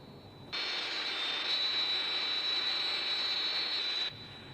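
A target aircraft in the Thunderbirds Are Go puppet series roars overhead, a steady loud jet whine swelling in abruptly, holding for several seconds, then cutting back to a quieter hum.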